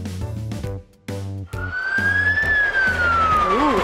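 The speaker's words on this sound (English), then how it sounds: "Ooh, it has a siren. It's a fire truck." A fire truck siren wails with a rising then falling tone, coming in after bursts of music and sounding loud and close, with the music continuing underneath.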